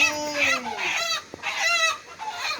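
A rooster gives several loud, close clucking calls in quick succession with short pauses between them.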